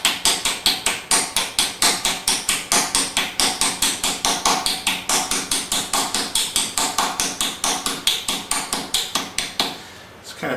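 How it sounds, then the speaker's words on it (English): A hammer taps a camshaft gear drive onto the crankshaft of a 454 Chevy engine in a steady stream of sharp metallic strikes, about four per second and close up, for roughly ten seconds before stopping. "We're just going to tap it on in circular motion."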